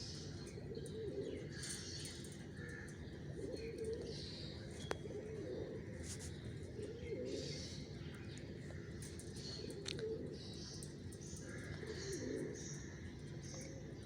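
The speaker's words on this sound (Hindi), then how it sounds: "ये हमारी घर की छत पे सुबह सुबह कबूतर आ जाते हैं" Pigeons coo softly on a house rooftop in the morning, repeated low, rounded calls, with faint chirps and a quiet outdoor background.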